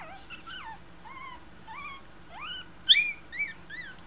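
A two-week-old Eskie puppy gives soft, high whimpering yelps and then one sharper little yip close by, with quieter whines after it and no voices.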